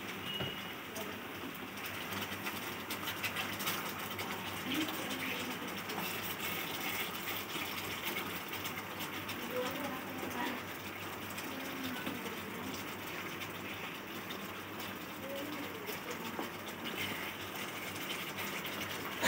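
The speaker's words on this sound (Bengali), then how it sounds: "এই দেখুন আমি গরম জল দিচ্ছি" Hot water pours steadily into a cooking pan of spiced pointed gourd, a continuous moderate gush and splash of liquid running for the whole stretch with no talk over it.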